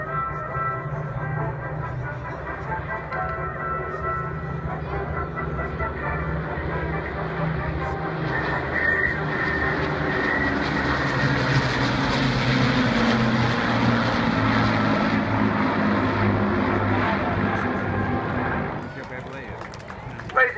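An Avro Lancaster bomber flies at a seaside airshow, its four-engine propeller drone swelling to a loud, broad roar then fading away, while a voice talks over it.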